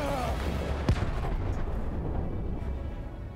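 Gunfire and battlefield explosions from the Battlefield 1 Storm of Steel campaign: a sharp booming shot near the start over a steady low rumble of distant combat, fairly faint overall.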